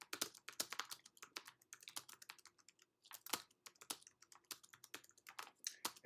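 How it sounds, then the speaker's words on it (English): Fast, close typing on a computer keyboard while formatting a Word document: a quiet, uneven stream of crisp key clicks with short pauses and no talk. "So I'm going to type something here."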